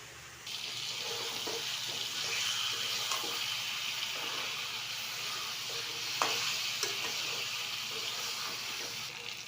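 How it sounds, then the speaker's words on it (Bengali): Potatoes frying and sizzling in a wok along with fried chicken pieces as they are stirred, a steady hiss with scraping and clinks throughout, no voices. "এবারে দিয়ে দেবো আলু।"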